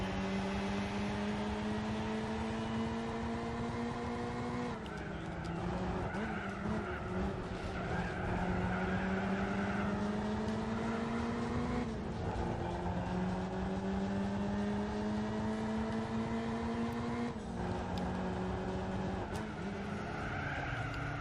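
Classic Lotus cars race in Gran Turismo 4, their engines droning loud and continuous, pitch climbing and dropping through gear changes, with tires squealing through corners.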